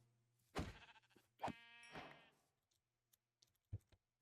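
A few sheep bleats in Minecraft's All the Mods 10 modpack, clear and close, separated by short pauses, followed by faint clicking sounds.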